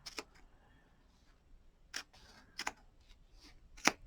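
Scissors slide and snip through a strip of fur: a handful of short, crisp clicks spaced irregularly over a few seconds, close and quiet with no talk.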